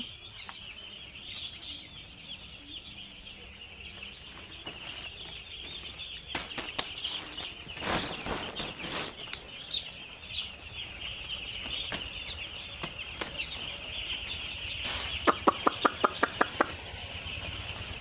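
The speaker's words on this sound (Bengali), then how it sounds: "একটুখানি আওয়াজ করলেই দেখেন কীভাবে মুরগিগুলো উঠে দাঁড়াচ্ছে" Young poultry chicks on a small farm under a heat lamp in winter stir and flap their wings after lying down, with soft clucks over a steady background hiss and brief louder bursts of wing flapping.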